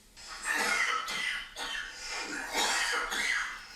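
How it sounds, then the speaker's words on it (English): An actor coughs on screen in a Breaking Bad episode: a run of about six harsh, raspy coughs in close succession, loud and close, with breathy gaps between them and no speech. "he's so good at coughing, this actor"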